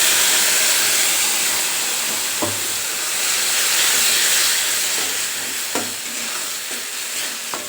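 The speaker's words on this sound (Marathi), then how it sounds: "याच्यामध्ये आता जे मी मिक्सरच्या भांड्यामध्येच पाणी टाकून घेतलेलं आहे ते टाकत आहे" Water from a mixer jar poured into sizzling masala for a traditional khara vangi brinjal dish, with a steady loud hiss and steam crackle, a few faint clinks and no voices.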